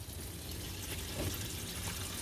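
Hot used motor oil pours from a car engine's drain after a flush, a steady, thin liquid stream like running water that continues unbroken and fairly quietly throughout.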